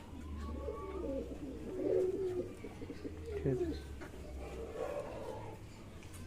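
Young pigeons sitting in the sun coo softly in repeated low, throaty phrases over a steady background hum, fairly close and unhurried.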